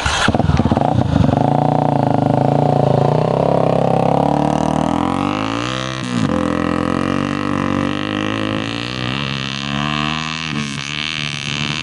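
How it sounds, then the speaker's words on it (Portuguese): A motorcycle engine starts up close and settles into a loud, steady running note, with the revs rising and dipping a few times over roughly twelve seconds on an outdoor trail. "Liga a moto."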